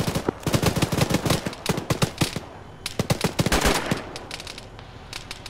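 Bursts of automatic gunfire ring out in an Arma military session played by ShackTac, with rapid volleys stopping and restarting across several seconds. The shots are moderately loud, echo slightly and are heard alone without voices.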